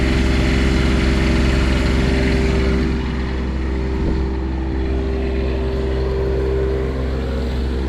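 An RV generator on air spring isolator mounts runs at a steady close drone, a constant low hum with strong tonal harmonics and a broad airy wash, easing slightly in level partway through.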